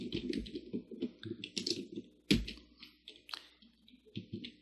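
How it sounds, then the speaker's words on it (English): Typing on a computer keyboard while entering a Perl program, a quick irregular run of close, crisp key clicks and taps at a low level, with no talking. "Now just type it over again."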